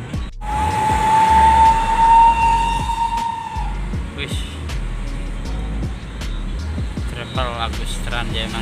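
A Transjaya Mandiri bus with a loud modified exhaust passes on a coastal national road in southern Banten, a loud engine roar with a horn-like tone, followed by further passing traffic.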